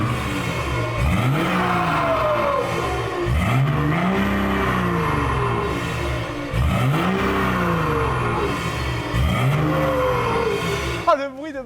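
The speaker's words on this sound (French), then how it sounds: "on va vous la démarrer à l'instant, elle fait un joli bruit de chouette hulotte" A decatted car with an empty exhaust and no silencer revs hard in repeated swelling bursts, loud and close, the engine note rising and falling in long sweeps with a sharp crackle at the end.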